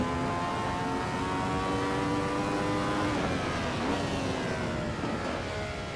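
A high-pitched Ferrari 312T Formula One engine in the Assetto Corsa racing game whines steadily through long gears, its pitch rising and dipping slightly, loud and continuous with no talking.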